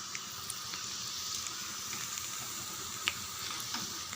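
Vadai batter frying in hot oil in a small pan over medium heat, a steady soft sizzle and bubbling with occasional faint pops and crackles, no voices.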